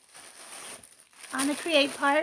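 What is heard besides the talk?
plastic bag crinkling while taking out catnip cat toys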